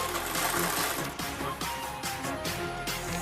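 A sewing machine stitches a fabric wardrobe cover, running in a steady close whir with rhythmic pulses of the needle and no talking.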